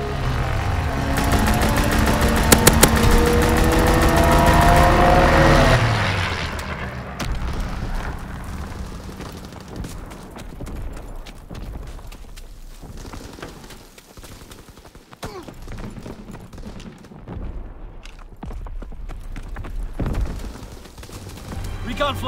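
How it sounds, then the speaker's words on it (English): A Call of Duty WW2 fighter plane strafing run rips through a multiplayer battle, opening with a loud, dense burst of rapid gunfire and roaring engine that fades into scattered distant booms and battlefield clutter. "Fighter pilot in your area. Call for a strafing run. Strafing run inbound."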